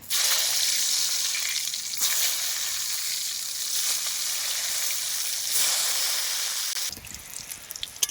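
Eggplant slices frying in plenty of hot mustard oil, a strong continuous sizzle that swells and dips in waves before dropping away near the end, with no talking.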